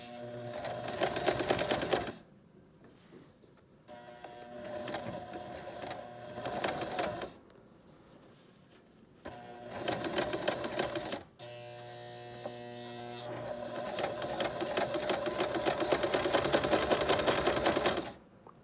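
Sewing machine stitching a torn seam on a pant pocket, running in several bursts with short pauses between, a steady close mechanical whir with no talk.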